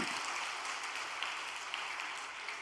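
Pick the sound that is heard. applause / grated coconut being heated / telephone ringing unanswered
applause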